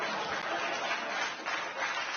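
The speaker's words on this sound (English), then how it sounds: "They're applauding that." Studio audience applauding, a steady dense clatter of many hands filling the room evenly from start to finish with no voices on top.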